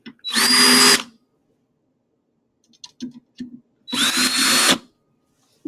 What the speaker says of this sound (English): Lightly put in all the screws,